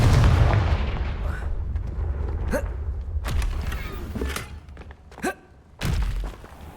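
Confringo spell explosions in Hogwarts Legacy, a heavy boom at the start followed by several sharp, thumping blasts spaced a second or so apart.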